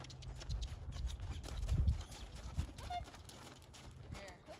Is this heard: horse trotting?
yes